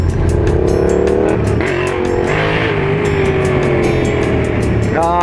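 A motorcycle engine echoes through a tunnel, its revving drone loud and continuous, rising and falling in pitch while the sound reverberates off the enclosing walls.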